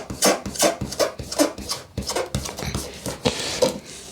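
120-grit sandpaper is rubbed by hand along the rough edge of a solid oak pizza board, giving a close, rhythmic series of short rasping strokes, roughly two per second, with no talk.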